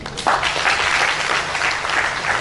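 A conference audience applauds the first speaker, Emmanuel Maossi: dense, steady clapping from many hands that starts abruptly and carries on loud and close throughout.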